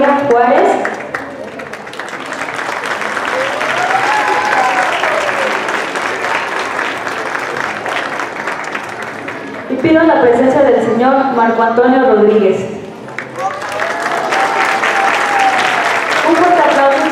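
Audience applause at a 50th-anniversary ceremony runs under a presenter calling people forward by name, steady clapping through most of the stretch with a brief lull where the announcer's voice stands out.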